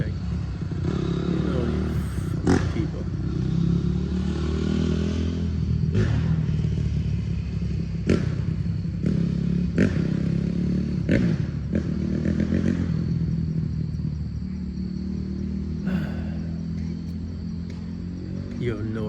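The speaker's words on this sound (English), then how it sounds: "Why is this guy driving this dirt bike here?" A dirt bike ridden nearby, its engine a continuous moderate rumble with scattered clattering knocks and thumps over about twenty seconds.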